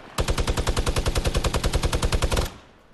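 Rapid burst of Legendary Compact SMG gunfire in Fortnite Battle Royale, a loud, steady stream of about twenty evenly spaced shots lasting over two seconds before stopping abruptly.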